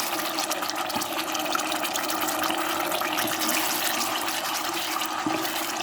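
Chili paste bubbling and boiling in a pan during a spicy stir-fry of barking deer meat, a continuous close rushing, burbling liquid sound with faint clicks, no voices.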